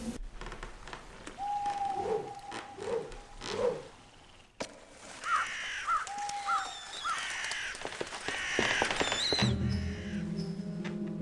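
Crows cawing in bursts while being knocked out with a sling in the game Dracula: Resurrection, several harsh calls spread across the scene over game ambience, fairly close and moderately loud.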